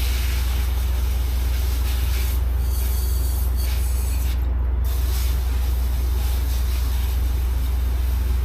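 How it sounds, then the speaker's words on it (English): Brake cleaner sprays during an oil change on a 2025 Ford Maverick Hybrid, a steady, loud hiss that runs the whole time over a low hum. "Brake cleaner."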